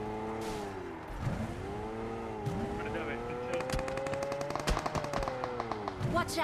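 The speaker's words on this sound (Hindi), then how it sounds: "जैसे यहाँ आते कुछ फायरिंग होती है हम पे" Rapid gunfire bursts crackle in the Battlegrounds Mobile India video game over a steady vehicle engine hum, the shots starting sparse and then turning into dense, loud automatic volleys.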